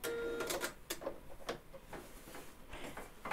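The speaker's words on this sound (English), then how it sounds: "when you start sewing along and you complete your line of stitches, there is no tail on the underside" A Janome 5270 QDC computerised sewing machine stitches close by: quiet, irregular mechanical clicks and ticks, with short whirring bursts and faint thuds.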